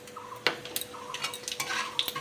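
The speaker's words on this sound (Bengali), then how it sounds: "ভালো করে নাড়িয়ে নেব একটু" A utensil stirs bay leaves and whole cumin in hot oil that has just fried fish heads, giving quick scraping clinks against the pan over a faint sizzle, fairly close and moderately quiet, no talk.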